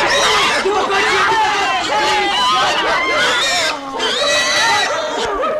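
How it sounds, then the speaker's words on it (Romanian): A pig squeals loudly and continuously as it is caught, its high shrill cries mixed with an excited crowd of people shouting and chattering close by. "Dați o mână de ajutor să prinde porcul."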